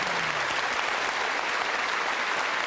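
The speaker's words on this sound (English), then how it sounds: "you're applauding" A studio audience applauds in a dense, even wash of clapping from a large crowd, loud and sustained from start to finish without voices on top.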